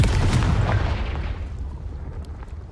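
Confringo fire spell explosion in Hogwarts Legacy, a loud booming burst at the start that rumbles and fades away over about two seconds, heard alone.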